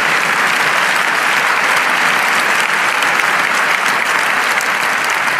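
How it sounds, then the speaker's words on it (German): An audience at a conference applauds, sustained dense clapping from a large crowd, steady and loud throughout with no talk over it. "für den brauchen wir jetzt noch mal einen Applaus kurz"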